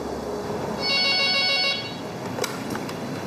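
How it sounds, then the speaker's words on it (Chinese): A telephone rings with one electronic ringtone burst lasting about a second, followed by a few faint clicks and room noise. "给警方打电话报警的就是受害者王女士"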